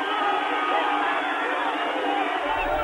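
A large outdoor crowd greets Nelson Mandela as he walks out, with dense sustained cheering and shouting that holds steady and loud throughout.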